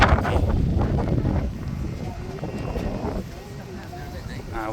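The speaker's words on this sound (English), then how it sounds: "Yeah, the weather is quite windy." Wind buffets the microphone on a riverside walk by the Thames in London, a low rumbling gusting that is strongest at the start, with a voice talking over it.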